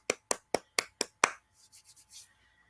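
Six sharp, evenly spaced hand claps ring out close by in a quiet room, followed by a few softer, muffled taps and rustles.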